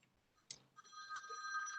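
Telephone ringing while a meeting participant who dropped off an audit committee call is dialled back: a steady electronic ring tone starts after a short click and carries on clearly to the end, with no talk over it.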